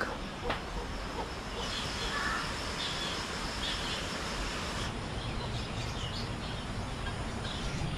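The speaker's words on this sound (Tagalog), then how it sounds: "Uwak." A crow caws a few times at a distance, faint against steady outdoor background noise, with no talk.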